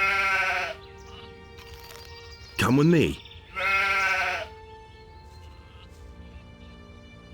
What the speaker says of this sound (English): Here's 100 gold pieces. Give me a sheep then.